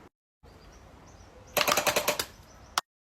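A toy gun fires a rapid burst of about eight sharp, crackling pops, then one final snap after a short pause, all loud and close against a quiet background.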